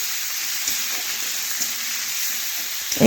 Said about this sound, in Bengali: আর মশলা একটু ভেজেও নিচ্ছি